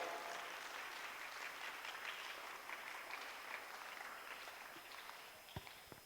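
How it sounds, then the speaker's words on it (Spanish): A church congregation claps steadily for several seconds, a dense, even wash of applause that fades slightly toward the end, with a couple of faint knocks near the close. "Y los felices aplauden."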